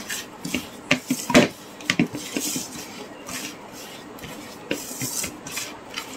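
Fishing bait for catching catfish and tengra fish being kneaded by hand with baby oil, giving close wet squelching and rasping rubs in irregular bursts with no talk.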